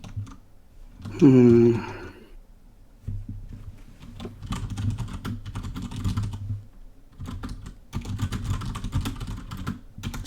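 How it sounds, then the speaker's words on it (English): Rapid keyboard typing at a computer during an online Scythe board game tournament, a dense run of close, crisp key clicks in uneven bursts with short pauses, following a brief hummed voice at the start. "Sorry if the typing is loud."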